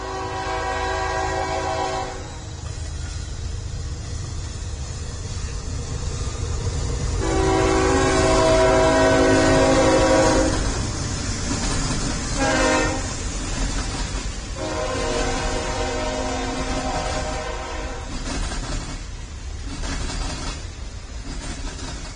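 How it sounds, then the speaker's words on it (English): A steam train runs in the video game Mashinky, with a steady rumbling rail roll and long, loud horn or whistle blasts rising over it at intervals, heard up close with no talking. "We're following along with one of the aforementioned steam trains"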